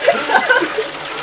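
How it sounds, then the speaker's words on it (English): A toilet flushes away a trifle dessert, a watery splashing rush lasting about a second, with cheering voices mixed over it. "Flush that trifle!"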